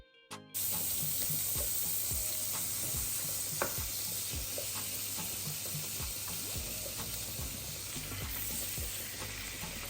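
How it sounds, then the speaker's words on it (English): Salmon fries in butter in a pan with a steady bright sizzle that starts abruptly and holds throughout, overlaid by scattered soft pops and crackles, close and without voices. "Over here I'm going to be making my salmon, so I'm going to fry it with butter."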